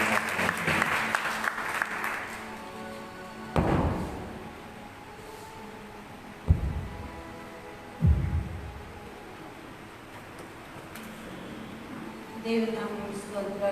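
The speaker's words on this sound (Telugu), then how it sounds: "అందరం కూడా ఒకసారి చప్పట్లు కొడుతూ" A church congregation at a Sunday worship service claps hands together, a steady burst of applause at the start followed by hum and scattered thumps, with a voice speaking over the hall.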